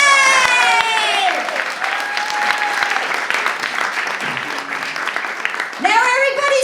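A comedy show audience clapping on cue, with dense sustained applause filling the room while a voice calls out over it at the start and end.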